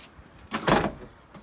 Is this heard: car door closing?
yes